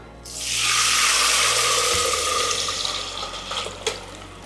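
Water pours into a pan in a steady, continuous rush for several seconds, close by, tapering slightly near the end with a few splashy bumps.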